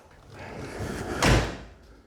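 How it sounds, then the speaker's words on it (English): A Nissan GT-R car door swings shut with a single solid thump near the middle, close by, after a brief rustle of movement and no talking. "We're gonna close the door."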